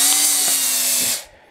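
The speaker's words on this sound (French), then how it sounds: "Et je le monte au bout de la perceuse." Electric drill spinning a valve lapping tool while lapping valves on a Panhard Dyna Z16 engine, a loud steady whine that runs for about a second and then winds down abruptly.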